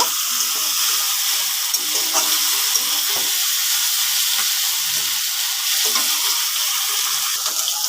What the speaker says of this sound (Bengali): মাছের মাথাটা কিন্তু ভেঙে নিয়েছি, তো এভাবে আর কি একটু কড়া করে ভেজে নেব।